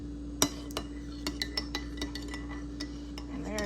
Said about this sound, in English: we'll stir up the tea